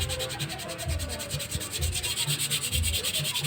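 Coarse sandpaper scrubbing over a rusty metal exhaust pipe in steady, rhythmic back-and-forth strokes, close and continuous with a gritty rasping texture.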